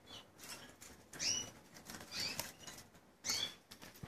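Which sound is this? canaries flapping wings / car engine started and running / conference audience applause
canaries flapping wings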